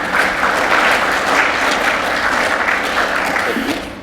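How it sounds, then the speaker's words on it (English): A loud, dense wash of audience applause fills a live cultural performance setting, steady and sustained, then tapers off slightly at the end. "Thank you for your applause."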